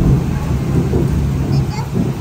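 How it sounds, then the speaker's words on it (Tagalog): Heavy rain roars steadily with a low rumble of thunder underneath, a dense wash of noise close by. "Biglang umulan, my boy, ng malakas. Parang may bagyo."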